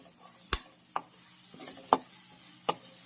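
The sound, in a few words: stirring spices into bitter gourd curry in a pan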